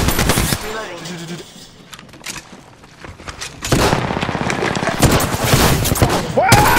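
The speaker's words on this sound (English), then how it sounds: "enemies are shooting!" Gunfire from enemy players in the Apex Legends video game, loud bursts of rapid shots in stretches, with a quieter gap near the middle, mixed with game effects and occasional voices.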